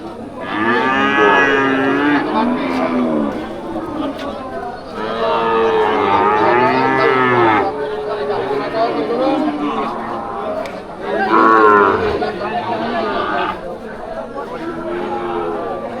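Cattle mooing at a rural cattle market, several long loud calls close by, separated by short pauses, with crowd chatter and voices in the background.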